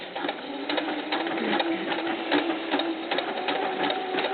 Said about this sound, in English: Just make sure you're pushing up your fabric up against that edge of that machine, that bar on the foot, and then just let it overcast.